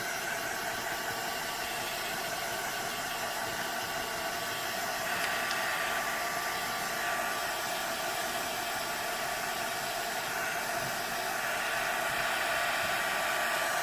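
A heat embossing tool blows hot air on a paper craft project, a steady close whooshing hiss that runs throughout and swells slightly in strength partway through.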